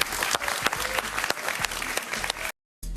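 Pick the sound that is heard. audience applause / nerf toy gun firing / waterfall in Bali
audience applause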